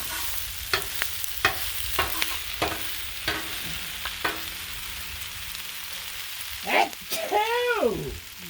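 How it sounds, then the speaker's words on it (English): Collard greens and mushrooms stirred on a Blackstone griddle: a bed of sizzling under repeated sharp scraping strokes of a spatula, followed by a short burst of nearby coughing and throat noises near the end. "Give a little stir."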